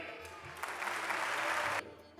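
Audience applause welcoming Assemblyman Phil Ramos at the Akshardham Mahotsav gathering: a crowd claps steadily for over a second, then it cuts off abruptly into quiet room tone.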